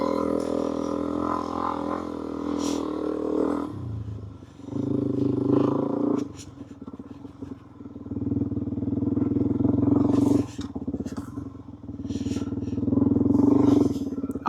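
Motorcycle on desert-pattern knobby tires riding through sand, its engine droning loudly and close, rising and falling as the throttle surges and eases, with a rough rattling edge throughout.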